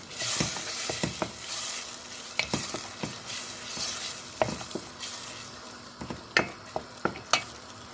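Pepper paste sizzling in a pan for a Turkish summer vegetable stew, with a gentle crackling fry and repeated sharp scrapes of a spoon stirring, close up and quiet with no talk.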